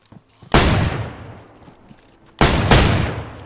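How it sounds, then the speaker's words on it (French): Loud, close gunshots in the video game DayZ: one sharp blast with a long echoing tail, then after a short silence two more shots in quick succession, each ringing out and decaying. "Ça tire."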